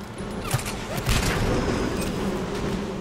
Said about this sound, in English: Look at me shooting through all this shit!